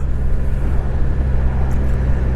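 A Triumph Rocket 3 GT motorcycle riding at steady speed, its engine a loud continuous low rumble with heavy wind noise and no clear gear change.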